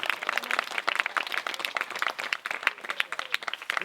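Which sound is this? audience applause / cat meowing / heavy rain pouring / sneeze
audience applause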